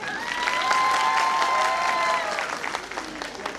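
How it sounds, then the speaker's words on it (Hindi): Audience clapping at a live on-stage hair cutting and dye demo, a dense burst of applause with a voice ringing over it that fades after a couple of seconds. "वो वाली तालियां बजा के दिखाइएगा जरा।"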